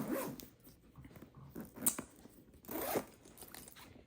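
A zipper on a bag's back pocket is pulled in a few quick, raspy bursts, with soft handling noises between them and no talking.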